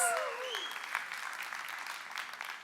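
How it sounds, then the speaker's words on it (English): Steady applause from a conference audience at Culture Summit Abu Dhabi, fairly soft and distant, with a brief tonal sound fading out at the start. "Let's give it a big round of applause."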